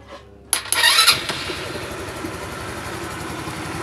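Motorcycle engine cranked by the starter, a sharp whirring start that catches and settles into a steady, close, rumbling idle, loud and continuous with no talking.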